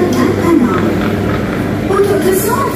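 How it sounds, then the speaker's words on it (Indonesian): Aerotrain airport shuttle train at Kuala Lumpur airport, a steady loud rumble and rolling drone of the moving car, with people talking over it. "Kita naik kereta bandara ini"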